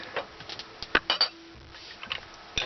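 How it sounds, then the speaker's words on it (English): Dishes and silverware being washed with dish soap under a thin trickle of cold water in a small off-grid solar camper sink, giving scattered soft clinks and clatters of crockery with a faint running-water hiss. "that water is going to be used to wash the next dish"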